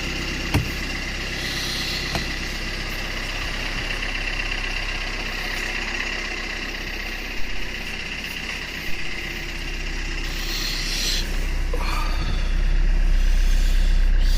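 A Vitara Brezza on a winter drive runs with a steady engine drone and road rumble throughout, a few clicks near the start, the engine note rising toward the end as the car pulls away and gathers speed.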